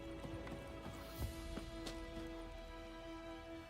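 Horse hooves clip-clopping at a trot in the Witcher 3 video game after the horse is called, a faint steady series of soft hoof beats over low background ambience.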